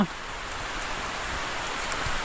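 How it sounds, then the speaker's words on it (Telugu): Steady rain falling on a garden during a cyclone, a dense, even wash of drops hissing across plants and surfaces, close and continuous for the whole stretch with no voices. "వర్షం పడుతూనే ఉంది"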